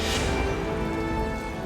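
Heavy rain pours down steadily in a dense, continuous hiss, close and loud, with no voices over it.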